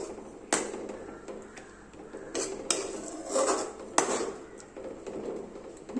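Drumstick leaf curry with crushed pappadam being stirred in a pot, with scattered clinks and scrapes of a utensil against metal, close and soft, and no speech.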